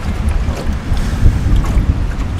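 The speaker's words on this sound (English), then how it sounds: "Pretty windy today" Loud, low wind buffets the microphone continuously beside a river, a rumbling roar with no voices.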